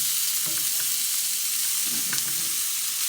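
Slices of Danish Crown canned ham fry in a pan with a loud, constant hiss, close up. A few clanks and scrapes mark the meat being flipped, and no one speaks.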